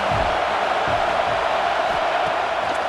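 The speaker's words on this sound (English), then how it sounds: "Decibels rising as the crowd gets behind this defense on third down." A packed college football stadium crowd roars steadily behind the home defense on third down, a dense, continuous wall of cheering noise with no breaks.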